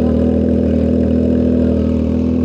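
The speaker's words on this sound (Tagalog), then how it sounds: "Magpipreheat na ako ng motor." A motorcycle engine idling as it warms up on a cold morning, a loud, steady, even low drone close by, unchanging throughout with no talk.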